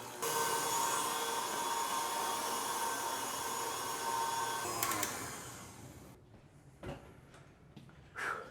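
An electric food mixer runs loud and steady with a droning whine while food is mixed in a firehouse kitchen, then shuts off around the sixth second, leaving quieter room sounds and a few knocks.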